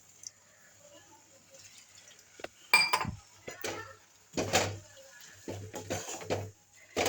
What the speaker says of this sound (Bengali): কিন্তু এরকম ঘাঁটতে হবে